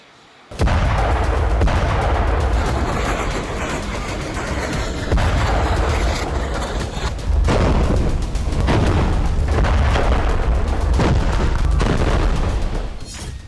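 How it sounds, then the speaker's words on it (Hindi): Artillery shelling and gunfire in Gaza make a loud, dense roar of booms and rumbling blasts that run almost without pause, with repeated heavy impacts rising and falling. "इसी तरह के गोले बारूद की आवाज आपको साफ तौर पर सुनाई दे सकती है।"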